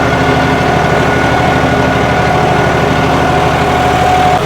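John Deere 5210 tractor engine running steadily at about 1550 rpm in C gear with four-wheel drive disengaged, a loud, close, continuous diesel drone with a low throbbing pulse and no talk.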